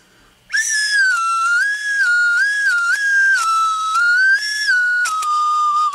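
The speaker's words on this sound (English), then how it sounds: "it changes the sound that you make when you're blowing through the whistle" A toy slide whistle from a Burger King Cat in the Hat collectible sounds after a short silence, its loud piercing tone sliding up and down in pitch for several seconds.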